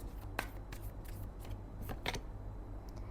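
Tarot cards are shuffled and drawn in quick, soft, papery flicks and snaps at close range, over a steady low hum.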